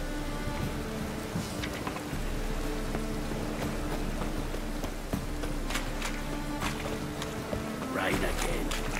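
Steady rain falling in the game The Witcher 3: a soft, constant patter in the background while voices talk over it.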